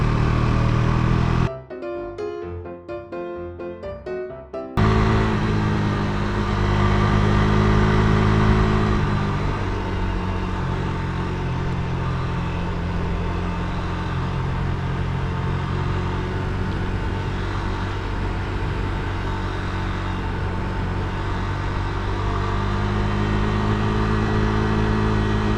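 A Yamaha XS650 motorcycle rolls along gravel with a steady mid-pitched engine drone and road rumble. The sound drops out briefly near the start, then continues at an even level.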